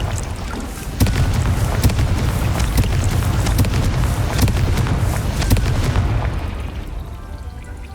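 The Confringo blasting spell explodes in Hogwarts Legacy, a loud booming blast followed by a burst of rumbling, crackling impacts that fade out toward the end.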